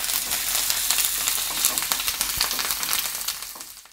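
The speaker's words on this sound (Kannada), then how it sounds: "ಕರಿಬೇವು ಹಾಕ್ಕೊಳ್ಬೇಕು. ಇಷ್ಟು ಎಣ್ಣೆ ಚೆನ್ನಾಗಿ ಫ್ರೈ ಮಾಡ್ಕೋಬೇಕು." Curry leaves frying in hot oil for curry-leaf chitranna give a loud, steady sizzle with crackling pops that runs unbroken for a few seconds, with no voices over it.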